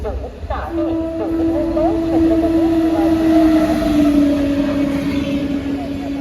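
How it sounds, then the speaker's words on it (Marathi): A train pulls in at a station, its long steady horn-like tone sustained over rumbling wheels and track noise, loud and close, while people talk excitedly nearby. "बघा मागनं आमच्या रेल्वे आली"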